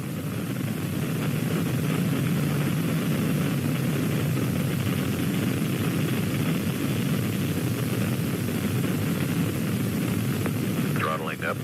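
Space shuttle engines roaring during ascent as they throttle up after maximum dynamic pressure, a broad, steady rumbling hiss that holds constant and fills the whole stretch.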